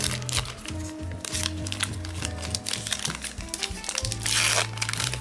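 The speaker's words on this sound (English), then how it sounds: "I'll try not to damage it as I'm opening it" A pop culture trading card wax pack wrapper is torn and crinkled open by hand in a steady run of close, rustling crackles, with a low hum running underneath and a louder crinkling burst near the end.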